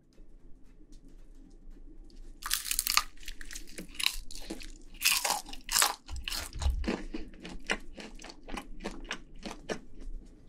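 Crunchy bites into honey butter garlic fried chicken, several loud, close crackling crunches followed by chewing, with no talking.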